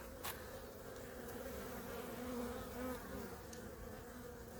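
Honeybees from a colony fly around the hive in spring warmth, giving a continuous close buzzing drone that wavers slightly in pitch, with no voices.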